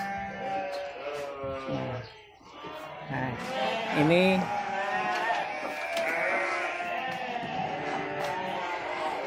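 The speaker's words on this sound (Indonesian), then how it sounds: "Nah, ini domba-dombanya lagi makan nih guys." Garut sheep feeding at a livestock farm, with loud bleating close by and over a steady noisy background while someone talks.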